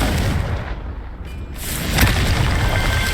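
Confringo fire spell explosion in the video game Hogwarts Legacy: a loud, dense booming blast that dips briefly and then swells again with a sharp crack, with no talk.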